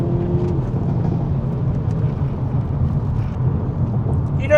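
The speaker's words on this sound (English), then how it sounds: "At the back, you're hearing those crazy pops and bangs and the insane exhaust." Hyundai i30 Sedan N engine heard from behind, a steady, fairly loud rumble of intake and exhaust with a low-frequency drone throughout, with no distinct bangs standing out.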